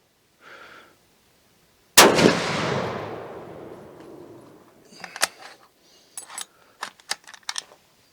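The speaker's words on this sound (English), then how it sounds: "This is actually the first time I've ever fired this caliber and this gun." A single loud, sharp blast from a CZ 416 Rigby rifle fired outdoors, with a long decaying echo, followed by faint clicks and handling sounds.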